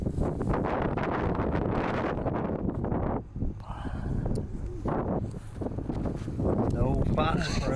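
Gusty night wind pounds the microphone outdoors during a coyote hunt, a heavy low rumble that eases briefly midway and then builds again, with people talking quietly under it.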